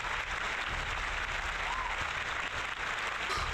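A canned applause effect from a button plays over World of Warcraft gameplay, a steady burst of crowd clapping and cheering lasting a few seconds at even loudness.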